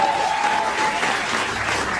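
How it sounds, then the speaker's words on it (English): A large theatre audience at a live comedy panel show delivers a broad, even roar of applause, a dense continuous wash of clapping that stays loud for the whole stretch. "I think that round of applause is called sympathy."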